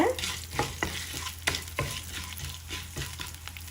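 Cumin seeds frying in hot oil for tomato mint chutney, a steady close sizzle broken by repeated sharp scrapes and clacks of a spoon stirring in the pan, no talk.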